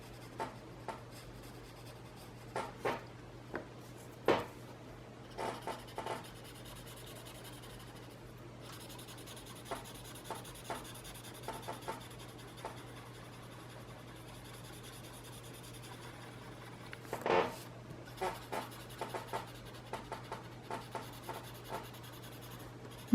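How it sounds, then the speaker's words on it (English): Pencil shading being blended in small swirls on paper gives soft, scratchy rubbing strokes, a steady close texture with short bursts through the passage and no talk. "And I do this in little swirls, kind of so that you really blend out that pencil."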